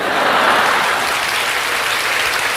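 Church congregation applauding during a sermon, a dense, loud, continuous clapping that holds steady throughout without a break.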